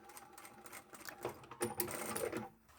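A sewing machine runs a few straight stitches on a lined mini pyramid pouch, a short, close, soft mechanical whirr with light ticking that stops near the end.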